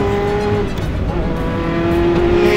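A Ferrari F40 sports car driving, its engine droning loud and steady from inside the carbon-fibre cabin, with a sustained tonal whine that shifts pitch slightly as speed changes.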